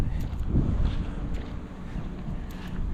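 Steady wind rushes and buffets the microphone with a low rumble throughout, close and moderately loud.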